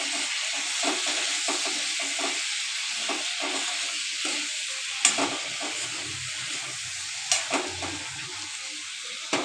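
Chayote (iskus) pickle simmering in a covered pan gives a soft, steady sizzle with light bubbling and a few sharp pops or clicks near the end, with no voices.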